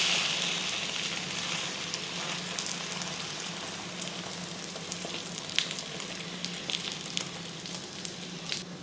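Egg-dipped layered porotta fries on a hot pan with a steady, close, dense sizzle, dotted with small crackles and pops that grow slightly busier toward the end, no voices.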